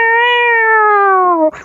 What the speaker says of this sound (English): The cat would meow at nothing.